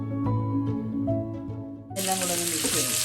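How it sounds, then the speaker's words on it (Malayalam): Chopped onion dropped into hot oil for a Hyderabadi creamy chicken gravy, bursting into a loud, steady sizzle partway through after quieter kitchen clatter. "മൂത്ത ശേഷം ചെറുതായി അരിഞ്ഞ ഉള്ളി ചേർക്കാം."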